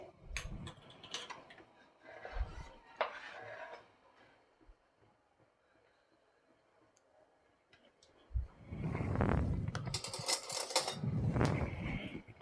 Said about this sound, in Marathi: तर गॅसवर मी कढई ठेवलेली आहे, मी गॅस पेटवून घेते